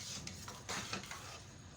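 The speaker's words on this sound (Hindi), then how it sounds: "अब इसको हम अच्छे तरीके के साथ मिक्स कर लेंगे।" Chicken macaroni is stirred in a pan, soft scraping and light metallic clinks of a spoon against the pot over a faint sizzle, quiet and close.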